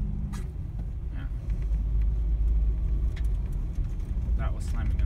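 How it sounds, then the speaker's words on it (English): Low rumbling noise of a Honda Fit on snow tires swells as it brakes hard in snow, with brief knocks and a voice speaking over the road roar. "That was slamming on the brakes."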